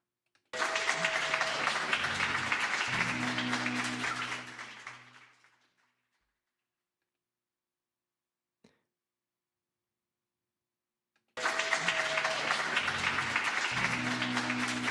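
Applause from a live show audience, a dense broadband wash of clapping that fades out, then silence with one faint tap, before it returns loud and full.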